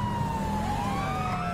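A police car siren wails steadily in the GTA game, its rising and falling tone sounding close over a low engine rumble and street noise.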